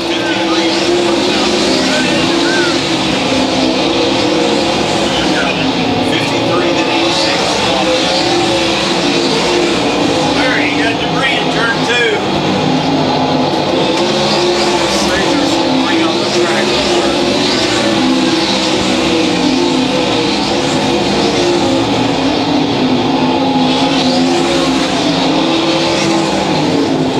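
ASCS Warrior Division sprint cars racing at Lakeside Speedway, a loud continuous roar of several engines circling the track, with an announcer talking over it the whole time.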